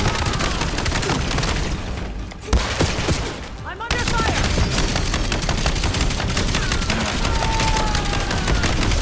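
Shotgun firing slugs in a video game, a dense stretch of heavy gunfire and booming shots amid chaotic battle noise, loud and nearly continuous with a brief lull in the middle.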